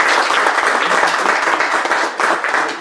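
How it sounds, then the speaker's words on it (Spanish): A literary event audience applauds steadily, a loud, dense wash of many hands clapping throughout with no pause. "recibámoslos con un aplauso"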